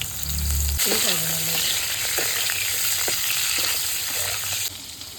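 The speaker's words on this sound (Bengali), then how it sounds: "তেল দিয়ে দিতেছি, কালো জিরা দিচ্ছি। এই যে সজনের ডাঁটাগুলি দিয়ে দিলাম" Drumstick pieces and nigella seeds frying in hot oil give a loud, steady sizzle throughout, with a few stirring clinks and a brief low rumble at the start.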